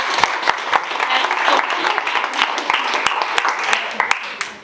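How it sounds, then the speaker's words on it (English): Audience applause fills the room at a workshop, a steady bed of many hands clapping with sharper individual claps standing out, loud and continuous throughout. "Give him a clap."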